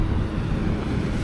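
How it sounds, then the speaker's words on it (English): Strong wind buffets the microphone beside Dandenong Creek during bream fishing, a steady, dense rumbling roar with no pauses and no voices. "I don't think you really want it this windy"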